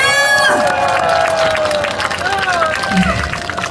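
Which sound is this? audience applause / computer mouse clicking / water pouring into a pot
audience applause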